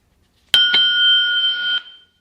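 An electronic bell from a Beason Bluetooth speaker rings with a sharp struck onset and a quick second hit, then sustains a steady bright tone for over a second before cutting off.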